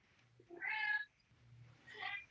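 A cat meows twice in the background of an online meeting, two drawn-out moderate calls separated by a short pause, heard alone over a faint low hum.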